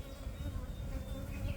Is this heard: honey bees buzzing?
yes